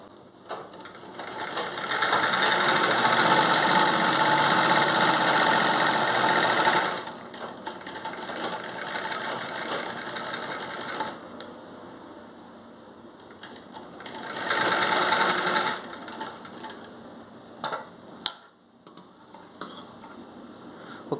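A tailor's sewing machine stitches a pant zipper, running loud and close in several long bursts separated by quieter handling and pauses.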